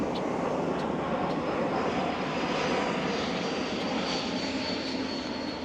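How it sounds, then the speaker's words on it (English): A steady, broad roar of an airplane passing overhead at Belle Isle Marsh, East Boston, loud and continuous throughout with no other sounds standing out. "You can hear the plane going by."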